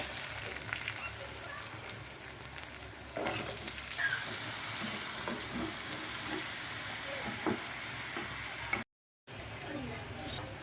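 Potatoes with dried red chillies fry in a pan with a steady, close sizzle and occasional stirring scrapes, cutting out briefly near the end before resuming.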